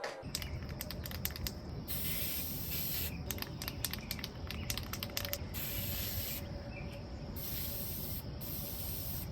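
A loud, continuous spray of a spray chalk can hisses for several seconds, broken by short sputtering bursts and brief gaps as the nozzle is pressed repeatedly.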